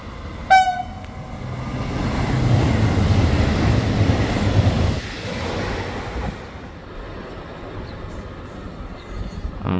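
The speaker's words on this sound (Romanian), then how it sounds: "Încă un tren." A train passes through Medgidia station. A short horn blast is followed by a long, loud rumble and clatter of wagons rolling by, which fades toward the end.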